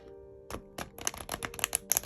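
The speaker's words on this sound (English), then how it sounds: "I'm gonna shuffle it this way just because there's a bow in it" Linen-finish Green Wheel Oracle cards, still bowed from packing, shuffled by hand, giving a quiet run of crisp flicks and snaps that speed up into a dense riffle toward the end.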